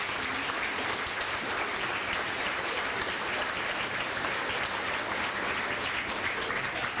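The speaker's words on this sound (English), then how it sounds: "Please give these people a round of applause." A crowd at a high school fall sports banquet gives a sustained round of applause, a dense, even wash of clapping that holds steady without pause.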